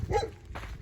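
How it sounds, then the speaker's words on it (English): A dog barks on a harbour beach, one loud close yelp followed by quieter rough barking over breezy outdoor noise. "He's having a nice old bark fest anyway."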